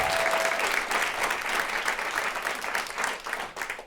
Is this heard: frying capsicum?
no